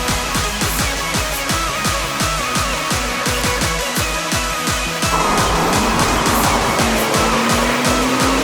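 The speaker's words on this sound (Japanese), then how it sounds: "この車はねすごいもうスピードがあっという間にもうスピードがすごい出ますね。" Porsche 911 Turbo S Cabriolet in Sport Plus mode with its wing raised, accelerating hard: a loud, close engine roar with rapid gear shifts that swells and climbs in pitch after a brief change midway, with no talk.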